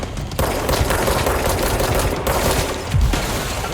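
Rapid gunfire from the video game Control, a dense run of overlapping shots and impacts lasting several seconds at steady loudness, with a heavier burst near the end.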